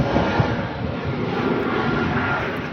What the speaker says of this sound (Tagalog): Tune up natin yung motor.